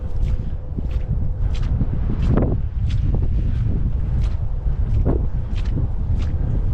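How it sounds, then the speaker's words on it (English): Cold, strong wind roars across an open stretch of the White Oak trail, a loud, continuous rush that blankets the microphone, while faint footsteps tick along at a steady pace beneath it. "It's very windy and cold."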